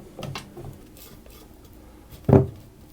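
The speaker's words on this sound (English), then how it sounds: "use my spatula to mix it just a little bit more" A spatula mixes oat cookie dough in a bowl, giving a few soft dull scrapes and taps followed by one sharper clunk near the end, quiet and close, with no talk.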